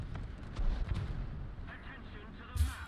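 Tank cannon fire from several T-34 tanks in a World War II tank video game, heavy low booms rumbling at mid distance with a sharper blast near the end, over a dense battle background with some voice.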